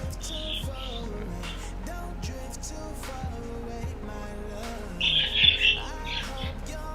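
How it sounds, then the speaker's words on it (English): Small birds chirp and tweet in short bright bursts, louder near the end, over a background of steady musical tones. "you can hear my birds on YouTube too"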